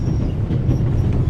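A moving train in the game The Raven Remastered gives a low, steady rumble with a soft, regular clatter of wheels on track, heard alone and close.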